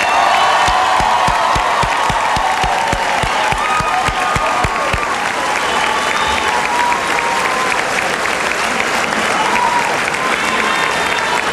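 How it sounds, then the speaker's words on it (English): Loud, sustained applause from a large crowd at an election-night event, with dense clapping and some cheering filling the whole stretch, and a few voices faintly audible within it. "Join me in a round of applause"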